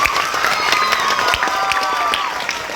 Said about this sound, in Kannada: ಹರಿಪ್ರಸಾದ್ ರೈ ಅವರಿಗೆ ಜೋರ ಚಪ್ಪಾಳೆ ಕೊಡಬೇಕು